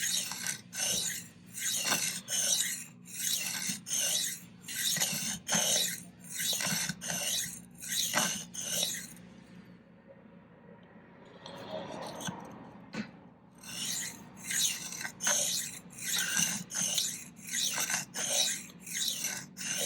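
Kitchen knife honed freehand on a sharpening stone, with steady rhythmic rasping strokes close by, one after another, pausing briefly midway before the regular back-and-forth strokes resume.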